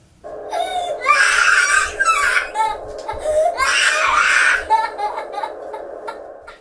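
A two-year-old girl screams and cries in loud, piercing wails, two long shrill bursts broken by gasping sobs, close and raw, fading to whimpers.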